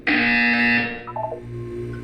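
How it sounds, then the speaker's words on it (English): A loud electronic buzzer from the video game Portal 2 sounds as one steady harmonic tone for about a second, then gives way to a softer fluttering chime and a low hum. "You will hear a buzzer."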